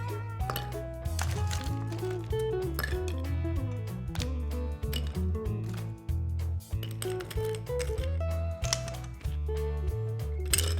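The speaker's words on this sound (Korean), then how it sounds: "얼음을 언더락 글라스에 가득 채워주세요." Ice cubes are dropped into a rocks glass while making a Maker's Mark nightcap, giving a long run of bright clinks and knocks, uneven in rhythm and close by, with no talking.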